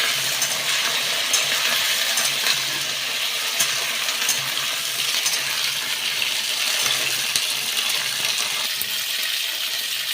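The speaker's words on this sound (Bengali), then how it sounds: "এবার আমি সবজিগুলো খুব ভালো করে লাল লাল করে ভেজে নেব।" Vegetables frying in a pan for khichdi make a continuous, close sizzle with scattered light clinks of stirring, steady and unbroken throughout.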